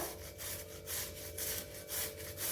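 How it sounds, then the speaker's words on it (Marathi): A carrot rasps against a small kitchen grater in steady back-and-forth strokes, about six scraping passes, close and alone with no talk. "आपल्याला बारीकच किस पाहिजे म्हणून आपण छोट्या किसणीने किसतो आहे"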